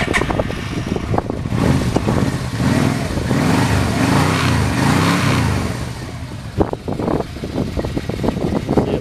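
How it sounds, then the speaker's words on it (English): A 1997 Yamaha Royal Star Tour Deluxe motorcycle engine cranks, catches and settles into a steady, loud idle close by, with a rumbling, pulsing tone and no talking. "We'll start it up here and show you that it runs fine."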